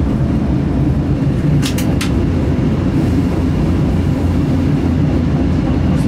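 Czech class 363.5 'Dvojče' electric locomotive running on rails, heard from inside the cab: a loud, steady low rumble with a few brief sharp squeals and clicks partway through.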